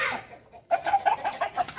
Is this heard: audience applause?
no